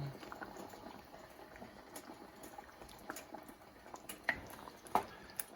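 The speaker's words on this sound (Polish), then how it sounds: "Zmniejszamy ogień i tak gotujemy." A low, steady bubbling of liquid simmering in a pot, with a couple of faint clinks near the end.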